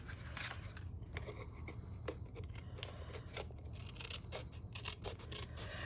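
Scissors snipping paper while trimming a layered wildflower journal page, a run of short crisp cuts up close, steady and unhurried with no talking.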